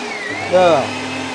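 An electric onion chopper whirs in one short, steady motor burst, its pitch rising briefly while it chops onions, close by and fairly loud under a speaking voice.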